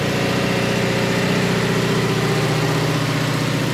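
A junkyard engine swapped into a 2018 Subaru Crosstrek idles just after start-up while burning off oil, a steady, loud, close mechanical drone with an even pulsing rhythm and no pauses.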